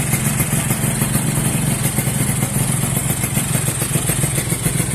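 A Yamaha RXS 135 motorcycle from the 1980s idles close by with a rapid, steady two-stroke putter and metallic clatter, loud and continuous, without voices.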